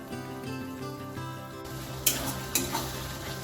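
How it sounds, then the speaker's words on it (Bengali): Spices stir-fried with a splash of water sizzle and bubble in a pan under a tonal background hum, broken by two sharp metallic scrapes of a spoon against the pan. "সামান্য একটুখানি জল দিয়ে মশলাগুলো সব ভালো করে কষিয়ে নিচ্ছি।"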